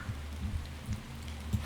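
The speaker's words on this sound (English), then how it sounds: "it's raining outside" Rain falls outside in the survival video game The Long Dark, a soft, steady hiss of drops on surfaces with a faint low rumble, heard alone and fairly quiet for a moment.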